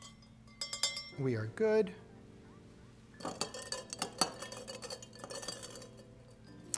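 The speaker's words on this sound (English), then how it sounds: "I'm gonna just give these a little stir" Spoon clinking and tapping against glasses while stirring Pernod and Ricard anise drinks, a few bright metallic clinks in irregular bursts, with a brief voice speaking between them.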